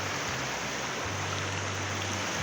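A large creek in Kulaman, Sultan Kudarat rushes in a constant, fairly close broadband wash, with a low steady hum running underneath.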